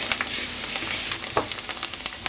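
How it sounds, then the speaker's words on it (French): Risotto rice sizzling and frying in olive oil in a sauté pan, with a steady hiss and occasional crackles as a spoon stirs it at regular intervals, close and alone. "On va remuer régulièrement le riz à risotto pendant qu'il est saisi avec l'huile d'olive"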